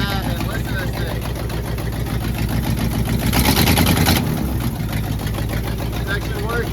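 A junkyard 1966 Jeep Gladiator with a 327 Vigilante V8 idles steadily after a choke adjustment, a loud, close, rough rumble that briefly swells as if revved slightly.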